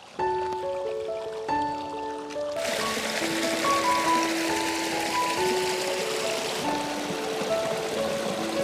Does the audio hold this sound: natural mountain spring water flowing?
yes